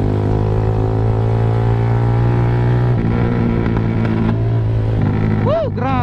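A Kawasaki Z200 motorcycle fitted with an Austin Racing GP1R slip-on exhaust runs with a loud, buzzy engine note that steps up in pitch in stages, nearby and continuous, with a brief voice near the end.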